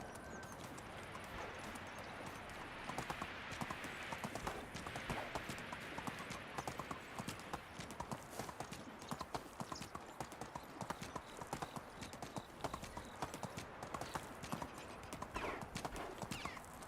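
A ridden horse in the medieval game Medieval Dynasty trots along with steady, rhythmic hoof clip-clops that continue throughout over a dense bed of game ambience.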